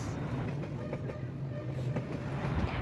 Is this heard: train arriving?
yes